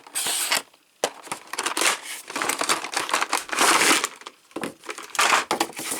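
An S.H. Figuarts Son Goku action figure box is unboxed, with close, loud bursts of crinkling and tearing cardboard, plastic and tape in irregular bursts and short pauses.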